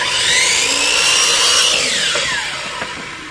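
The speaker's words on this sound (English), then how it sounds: "we'll go over and cut one of these dowels and we'll show you how we drill a hole and put that in there" A power tool cuts through a wooden dowel at a roofing restoration job, a steady loud whine that holds for a few seconds and then gradually tapers off, with no talking.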